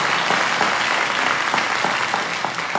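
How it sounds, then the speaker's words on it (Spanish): A church audience gives sustained, dense applause that stays steady and full for the whole stretch. "Por favor, denles un fuerte aplauso a todos ellos."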